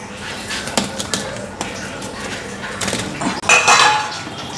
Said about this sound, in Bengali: এদিকে সবজিটাও কেটে নিলাম